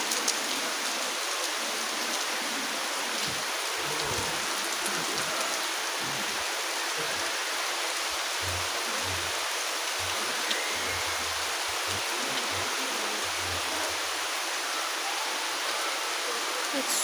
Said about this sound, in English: It just started raining again very heavily.